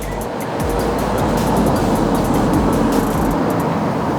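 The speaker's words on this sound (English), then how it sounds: "somebody just drove down the alley" A car rolls down an alley beside a garden, a steady close rumble of engine and tires with a broad road-noise wash that holds at an even level throughout.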